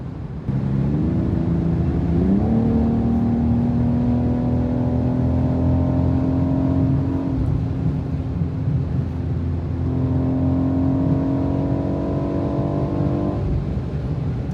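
A 2024 BMW X4 M SUV engine revs and climbs through gears on a German autobahn with a loud, rising drone, accelerating hard, then pulls again after a brief shift, over constant road noise.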